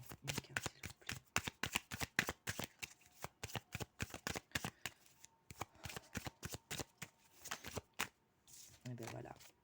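A deck of tarot cards being shuffled in a rapid series of sharp riffling flicks, close and fairly quiet, with a short pause near the end and a brief low thud.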